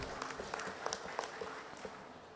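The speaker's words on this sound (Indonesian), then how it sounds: "tepuk tangan juga buat Pak Iwan." A crowd claps in steady applause at a distance at a regional government open house in Kebumen, with scattered sharper claps standing out over the general patter.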